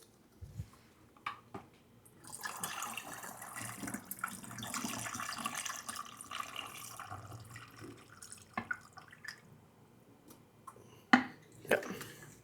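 Water poured slowly into a film developing tank during home processing of 35mm film, a steady splashing flow lasting several seconds with a few sharp clinks near the end.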